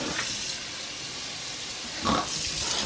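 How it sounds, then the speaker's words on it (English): Dyed clothing is rinsed in water, making a steady, close hiss of running and sloshing water with a louder surge of splashing near the end. "I've rinsed it till the dye runs clear"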